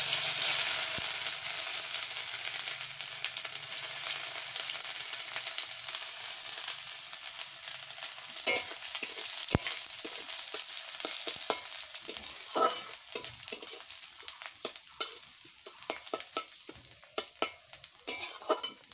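Cumin and ginger fry in a pan with a bright, steady sizzle that settles down, followed by the scrape and tap of a spatula stirring, up close with no talking.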